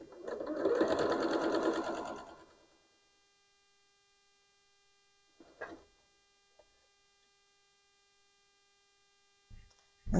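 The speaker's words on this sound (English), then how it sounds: "And we're going to go to the sewing machine." A sewing machine stitching a quilt block runs in a rapid whirring burst for about two seconds, then stops; a few brief handling clicks follow over a faint electrical hum.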